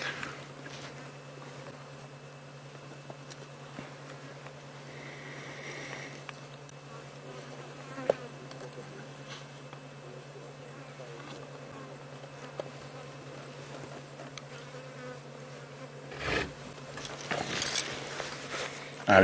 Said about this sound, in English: Now listen to the buzz of the flies. Sounds like a swarm of bees.